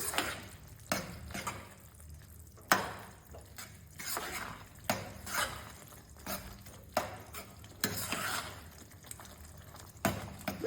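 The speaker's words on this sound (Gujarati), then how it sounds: "આ રીતે મિક્સ કરી દેશું." Vaghareli khichdi, a Kathiyawadi spiced rice-and-lentil dish, being stirred in a pot, with a spoon scraping and sloshing through the thick mixture in repeated strokes roughly every second, close and moderately loud, with no talking.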